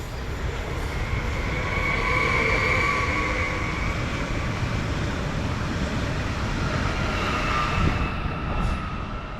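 A Flirt electric multiple unit running from Warszawa Gdańska to Nasielsk passes by Warszawa Toruńska, giving a continuous rolling rumble with faint high whine, steady and fairly loud throughout, no talking.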